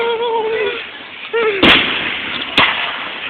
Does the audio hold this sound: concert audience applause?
no